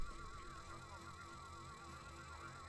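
A sheep, made from an enemy transformed in Ratchet and Clank: Going Commando, lets out a long quavering bleat over dense, faint game audio.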